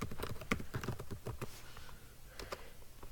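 Quick bursts of computer keyboard typing, several close, crisp keystrokes in a short run and then a few more taps, with no talking.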